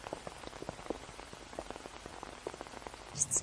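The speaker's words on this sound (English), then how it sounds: "A little rain won't hurt." Steady light rain patters on an umbrella, a soft continuous pitter of drops, faint and close, with no talking.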